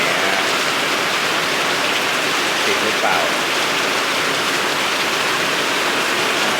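Steady rain falls as a loud, continuous hiss throughout, with someone speaking briefly over it.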